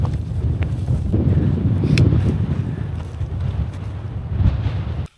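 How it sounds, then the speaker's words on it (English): Strong wind buffets across a frosty mountain summit, a loud, continuous low roar with gusty surges battering close against the microphone. "This wind literally takes your breath away."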